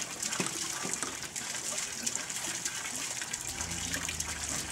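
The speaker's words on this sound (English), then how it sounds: "So the air can escape, and there you go. And you got yourself a water pump." Water gushes steadily from a homemade water pump, a continuous hissing, splashing flow at moderate level with no talk.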